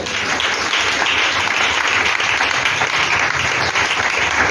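A church congregation breaks into loud, sustained applause, dense clapping filling the room evenly from start to finish.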